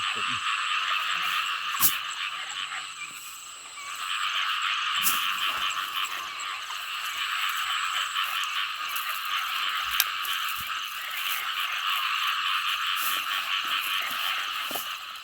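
A dense chorus of frogs croaks without pause across a flooded rice field at night after heavy rain, steady and loud throughout, with a few faint knocks and rustles close by.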